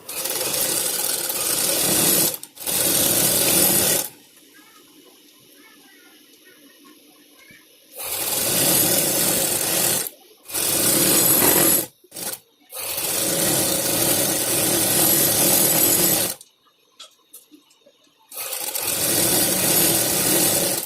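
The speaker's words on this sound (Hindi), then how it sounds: "फिर हमें नीचे आधा आधा इंच पर पूरी सिलाई करनी है" An electric sewing machine stitches a half-inch seam on a cotton frock-style kurti in several close bursts of whirring motor and needle rattle, separated by quiet pauses.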